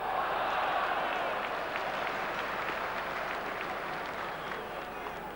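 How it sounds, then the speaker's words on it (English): Crowd applause at a 1994 Premier League football match against Swindon Town, a broad, distant roar of clapping from the stands that fades slightly over several seconds. "Applause there for Robbie Elliott"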